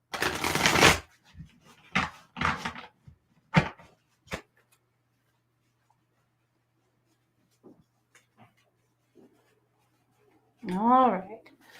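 Oracle cards are shuffled in several short, close papery riffling bursts, followed by near silence with faint taps and a brief voice at the end.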